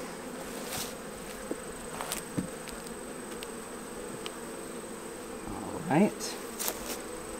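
Honey bees buzz around an open hive in summer, a continuous close drone with individual bees zipping past the microphone. A person speaks briefly and faintly under the buzzing.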